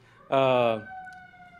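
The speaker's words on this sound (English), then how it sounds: "I'll let the sirens go by." A siren wails loudly for about half a second with strong harmonic tones, then fades into a steadier, quieter siren tone continuing in the distance.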